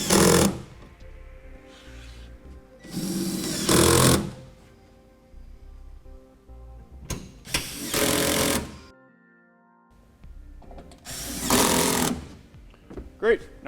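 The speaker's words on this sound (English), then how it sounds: "I'm using a T30 Torx bit, and I'm using a screw gun at a low torque setting" A screw gun on a low torque setting drives a T30 Torx bit to tighten a rail for a BAKFlip G2 tonneau cover on a 2014 Toyota Tundra, three loud whirring bursts with someone speaking in the gaps.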